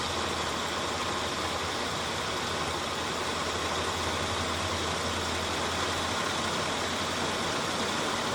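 A Jeep CJ7 inline-six 258 engine idles steadily with a low, even rumble and broadband hum, holding constant throughout with no voices.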